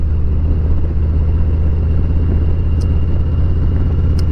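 A Harley-Davidson Heritage Classic motorcycle on the road, its engine giving a loud, steady low rumble with a throbbing beat, heard up close throughout.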